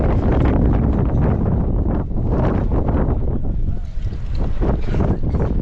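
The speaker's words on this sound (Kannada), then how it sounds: "ಏನು ಗಾಳಿ ಬೀಸ್ತೈತೆ ಗುರು, ಎಫಿ ಗಾಳಿ ಅಂದರೆ ಗಾಳಿ" Strong wind at a clifftop near Varkala beach buffets the microphone in loud, continuous roaring gusts, with faint voices barely audible underneath.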